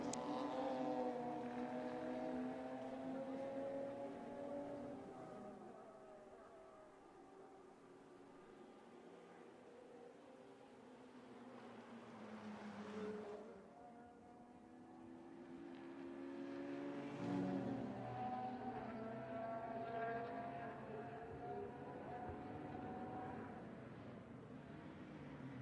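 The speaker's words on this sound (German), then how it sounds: "Genießen Sie mal kurz vor dem Fallen der Zielflagge den Motorsound des DTM Classic Cups" Classic touring race cars of the DTM Classic Cup at the Hockenheimring circuit, engines droning and swelling as they pass at a distance, faint and continuous with rises and falls in loudness.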